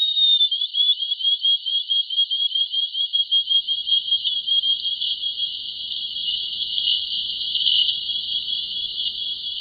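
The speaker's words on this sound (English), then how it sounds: "Here's a clip of that rat in a trash can." A wild rat inside a trash can gives a long, unbroken sequence of alarm calls, heard as a loud, steady high whine threaded with rapid chirping pulses. No voices accompany it.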